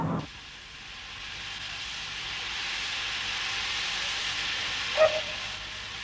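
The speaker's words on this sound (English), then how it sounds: "the final run of a London Transport steam train" Steady steam hiss from a London Transport steam locomotive fills the scene, a broad continuous rushing with a brief sharp tone near the end, heard at a moderate distance.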